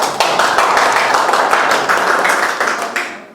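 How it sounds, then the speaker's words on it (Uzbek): Steady applause at a school reunion for the class of 1994–2003, many hands clapping densely and close for about three seconds before tapering off. "Bu chiroyli qarsaklar siz uchun"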